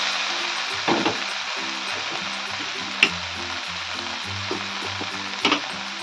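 Fried eggplant tipped into cooked-down spice paste for a vegetarian alu begun bori curry sizzles loudly and steadily in the pan, with several sharp knocks and scrapes of a spoon against the vessel.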